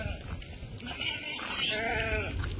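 Sheep bleat in a mixed flock of more than a hundred sheep and rams, several wavering calls overlapping at close range among other livestock noise, with people talking underneath.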